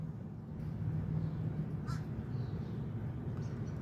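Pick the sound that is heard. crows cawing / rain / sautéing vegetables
crows cawing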